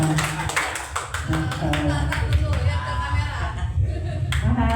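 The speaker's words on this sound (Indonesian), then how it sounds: "Tepuk tangan yang meriah." At a workshop and Halal Bihalal gathering for Islamic religious education teachers in Tanjung Priok, North Jakarta, a room of people claps in a brisk, fairly loud patter, with voices talking underneath.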